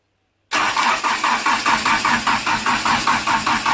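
A four-cylinder engine in a Chrysler Conquest cranks and catches after a moment of silence, then runs loud and close with an even, pulsing beat and a slightly rough idle.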